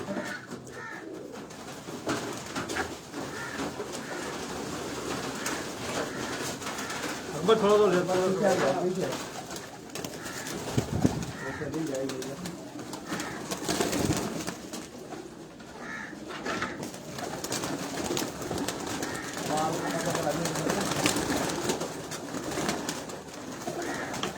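A large flock of pigeons on a Karachi rooftop coos in a continuous, overlapping murmur, with occasional crow caws and people talking nearby.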